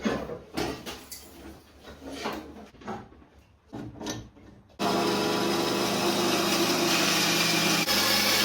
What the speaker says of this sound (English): I'm going to chop this down into the rough shape